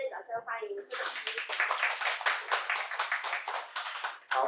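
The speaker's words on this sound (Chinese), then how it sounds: "请大家可以热烈掌声欢迎" Applause from a seated class audience welcoming a teacher at the start of an Office workflow lesson, a dense steady clapping that starts just after a brief spoken word and fills the rest of the clip at close range.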